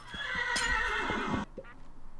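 Horses neigh in the Minecraft video game, a loud whinny lasting over a second with rhythmic clip-clop hoof taps underneath, followed by a quieter short snort.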